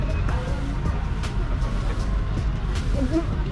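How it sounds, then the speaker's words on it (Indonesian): A car pulls away on a street in Banjarmasin after a flood, its engine hum steady and fairly close over continuous traffic noise, with faint voices nearby. "mobilnya berangkat tuh."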